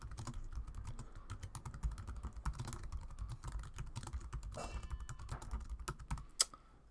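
Rapid typing on a computer keyboard while setting up an essay document, a steady close patter of key clicks with a sharper keystroke near the end and no talking.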